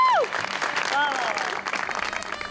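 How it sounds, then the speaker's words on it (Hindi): Audience applause on a comedy stage show, a broad steady wash of clapping with a short whistle-like sweep at the start and another near one second, moderately loud. "लेडीज एंड जेंटलमैन, तालियां बजाएं, देव आनंद आ गया है।"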